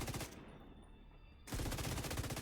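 Rapid automatic gunfire from The Division 2 rattles in dense bursts, a sustained volley breaking off briefly before resuming loud and close.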